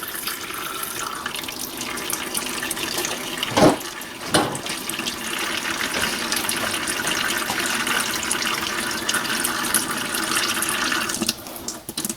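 Transmission fluid drains steadily from a faulty Audi 7-speed gearbox into a collecting pan, a continuous close splashing pour with a couple of brief knocks partway through.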